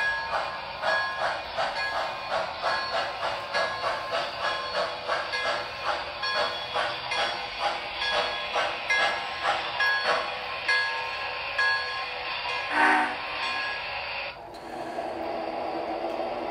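A model Disney steam locomotive, the Lillie Belle, rolls along its track with a steady, rhythmic chuffing and clicking under a hissing wash, close and moderate in level, then a brief clank and a quieter stretch near the end.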